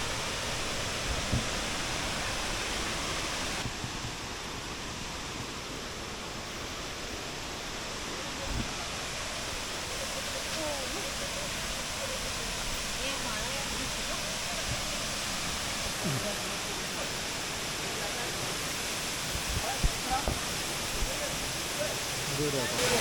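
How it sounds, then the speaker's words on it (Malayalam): The waterfall at the Vattavada viewpoint hisses as a steady, even wash of falling water, moderately distant and unbroken throughout, with occasional faint voices and small knocks nearby. "രണ്ടാമത്തെ വാട്ടർഫാൾസും നാലാമത്തെ വ്യൂ പോയിന്റും"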